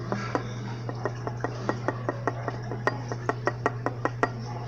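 Slime mixture stirred in a container, giving a series of light clinks and taps against the container at a loose, fairly regular pace over a steady low hum, close and clear, with no talk.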